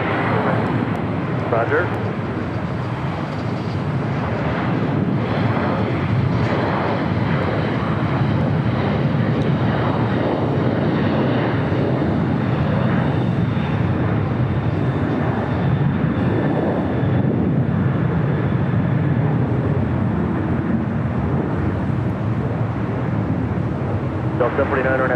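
Steady, loud jet roar fills the whole stretch, heard around a Boeing 737-900ER jet airliner at LAX airport, with radio voices and a brief acknowledgment over the constant engine noise.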